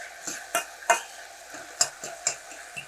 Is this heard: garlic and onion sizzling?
yes